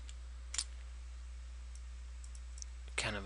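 A couple of sharp computer mouse clicks during Photoshop editing, separated by a long quiet gap, with a low steady hum underneath.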